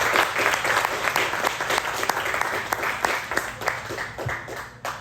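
Steady applause from an audience welcoming a poet to a reading in Baltimore, a sustained wash of clapping hands that holds at an even, fairly loud level throughout.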